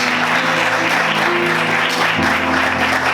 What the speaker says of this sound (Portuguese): Você pode aplaudir o Senhor nessa manhã?